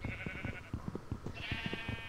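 Several sheep bleating in a Minecraft modpack, overlapping wavering bleats in short pulses with a continuous game tone behind them.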